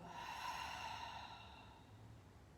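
Breathy exhale during a yoga practice, a soft sustained airy rush that is steady for over a second and then tapers off gradually, close and quiet with no talk.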